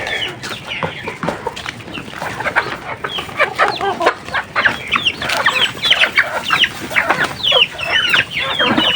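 Several Rhode Island Red chickens cluck and squawk nearby in a busy, overlapping chorus, with quick rising calls becoming more frequent toward the end; no talking.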